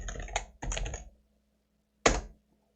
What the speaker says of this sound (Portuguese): Vamos supor que eu estou digitando aqui agora uma ferrovia.